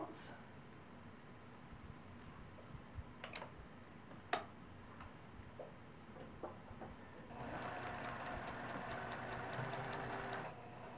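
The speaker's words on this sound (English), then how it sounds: "now we're ready to stitch our 1/4 inch seam allowance" A sewing machine stitches a quarter-inch seam allowance on a quilt block, with a steady rapid ticking run of stitches in the latter part, preceded by a few scattered clicks and handling sounds nearby.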